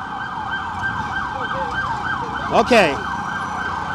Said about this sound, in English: Loud siren, oh my God, loud siren.